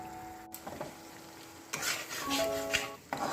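Spice paste for a chital fish curry sizzles softly in a pan while a utensil stirs and scrapes it, with quiet frying hiss and a few faint clinks of the spoon against the pan.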